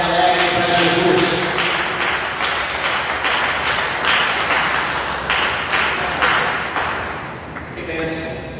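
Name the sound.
church congregation applauding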